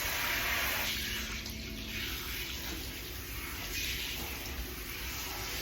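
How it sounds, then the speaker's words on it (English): Water running from a salon shampoo bowl sprayer while rinsing a client's hair, a steady close hiss and gush that continues for the whole stretch without talk. "And then we're going to rinse."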